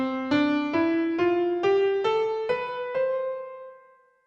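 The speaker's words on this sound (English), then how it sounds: "A major scale sounds like this." A major scale played note by note on a pitched instrument, eight clear evenly spaced notes climbing upward, the last one left to ring and fade.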